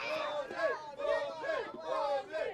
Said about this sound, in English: George Gibbons Motorsport are up top cheering on.